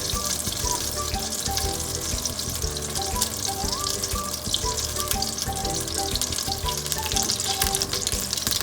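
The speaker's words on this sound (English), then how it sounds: "and now it's hot. I'm adding 2 tablespoons of butter." Two tablespoons of butter melting in a hot Instant Pot on saute mode for dal makhani, giving a continuous loud, close sizzle and crackle with a faint electronic tone beneath, no voices throughout.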